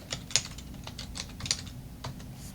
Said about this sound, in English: I'll type it here and click on Search